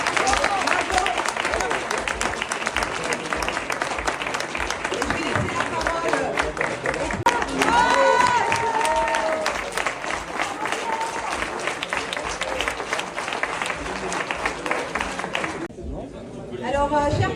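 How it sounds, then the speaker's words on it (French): Loud sustained applause from an award ceremony audience, many hands clapping with crowd chatter and occasional cheers mixed in, continuing strongly before thinning briefly near the end. "Applaudir bien fort."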